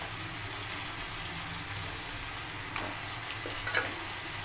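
Fish heads fry in a hot pan with a steady, close sizzle that holds throughout, plus a couple of faint clinks of stirring.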